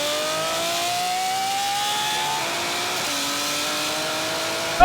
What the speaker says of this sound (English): Third gear and higher speed before we floor it.